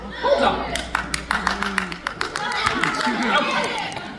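An audience claps and chuckles during a live tabletop role-playing game show, a patchy run of scattered claps and soft laughter at moderate distance, mixed with crowd chatter.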